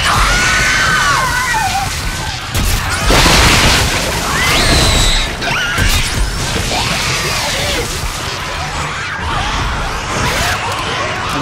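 Gun alternate fire in Dead Space 2, a loud burst of booming, crashing weapon noise with whooshes and distorted screams, dense and continuous throughout amid chaotic game action.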